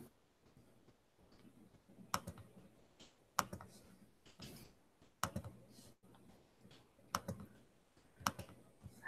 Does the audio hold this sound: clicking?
yes